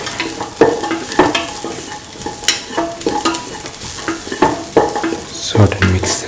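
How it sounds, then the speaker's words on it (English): Ginger, garlic, shallots and onions fry in a pan while a utensil stirs and scrapes them, with a steady sizzle under repeated close scraping strokes in an uneven rhythm. "Salt and mix the ginger, garlic and the shallots with the onions."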